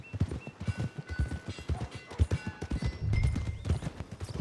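Horse hooves clip-clop at a steady walking rhythm in Red Dead Redemption 2, fairly close and moderately loud, with a brief snort or whinny mixed in and no talk.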